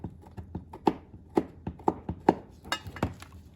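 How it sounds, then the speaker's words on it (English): A flathead screwdriver scrapes and taps against the back of a Lionel postwar Canadian Pacific passenger car, giving a run of short, sharp clicks and knocks at an irregular pace, close and moderately loud with no talking. "take my flathead real quick and scrape off the back side here"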